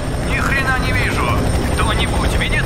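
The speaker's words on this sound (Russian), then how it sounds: "Это вертолет Зула 8-1." Helicopter flying in the video game F.E.A.R. 3, a continuous loud rotor and engine rumble under radio-style talk from a soldier.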